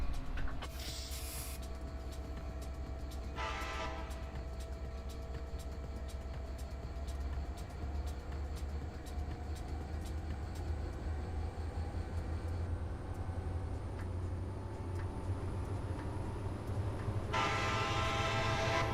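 A locomotive engine revs in the Trainz simulator game on a Metrolink and Amtrak Los Angeles run, a low steady rumble with a slowly rising whine and short bursts of hiss.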